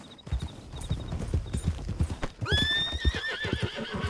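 A horse in Red Dead Redemption 2 clops its hooves in a steady rhythm, then lets out a loud, drawn-out whinny close by.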